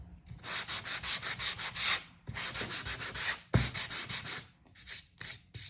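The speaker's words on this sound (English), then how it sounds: "There, I sanded mine up a little bit." Hand sanding on a small craft piece, steady rhythmic scratchy strokes in quick bursts with a couple of short pauses, close and fairly loud with no talking.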